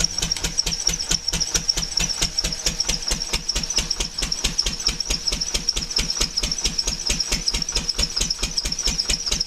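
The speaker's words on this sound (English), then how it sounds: "Hear the grunt in the generator." An induction motor generator runs with a slipping belt that is too small for the motor pulley, producing a loud, fast, evenly repeating knocking chug with a steady high whine above it throughout.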